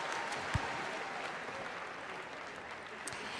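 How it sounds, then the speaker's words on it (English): A crowd at the British Swimming Championships applauds a British champion with steady, dense clapping that fills the venue and continues throughout at moderate distance. "Big cheer for our British champion, Chris Walker-Evan."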